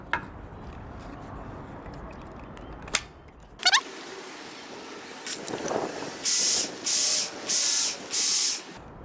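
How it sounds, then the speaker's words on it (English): Knife stropped on a Ken Onion Work Sharp belt sharpener: a few short scrapes, then four even, loud hissing passes of the blade on the belt in a steady rhythm, up close with no talk. "We're gonna go ahead and strop it as the last."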